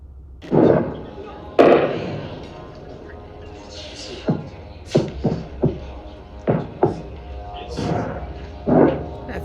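Missile interceptions exploding over Tehran, a series of irregular distant booms and cracking pops like firecrackers, about ten bursts scattered across a quiet night background.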